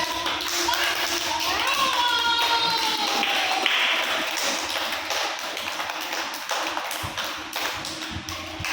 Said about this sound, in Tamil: Clap clap clap.